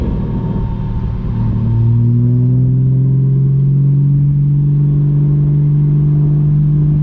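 Engine of a Porsche 914-based build revving with its exhaust note, loud and close, a steady low drone that climbs in pitch and holds, with no talking.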